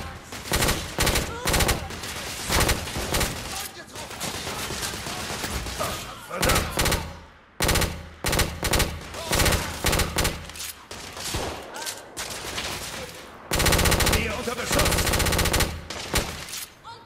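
Rapid gunfire from the video game The Order: 1886 fills the mix, with dense bursts of shots and short pauses, loud and close throughout.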